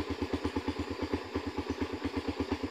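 A motorcycle engine idles steadily, its low rhythmic putter pulsing evenly throughout, with no talking.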